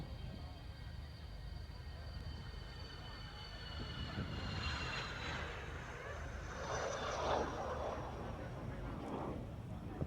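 Saab Viggen jet, now with the Swedish historic flight, departing at the RAF Waddington Airshow 2014, a distant rising engine roar building in the second half with faint tonal whine, over steady crowd-area ambience.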